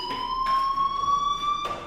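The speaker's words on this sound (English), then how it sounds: "Hey, do you hear that fire alarm?" A fire alarm rings in the video game Life is Strange, a loud, steady electronic tone pulsing in short repeated bursts, sounding alone without speech.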